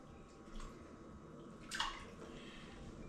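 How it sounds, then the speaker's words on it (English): About four pounds of store-bought corned beef is lowered into a container of water to soak, giving a soft slosh and a brief splash, close but quiet over faint background noise, with no talk. "We'll put it in the water here."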